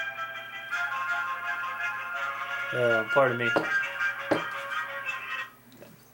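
A mobile phone ringtone plays as a steady electronic melody for several seconds, heard close and fairly loud, with someone briefly speaking over it before it cuts off.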